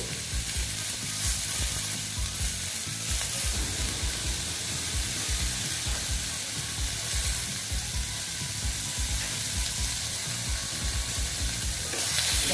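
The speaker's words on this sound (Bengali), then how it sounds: "হলুদটা দিয়ে একটু ভেজে দিচ্ছি" Turmeric and salt frying in a pan for raw mango chutney give a steady, close sizzle and crackle, with stirring scrapes running through the whole stretch and no talking.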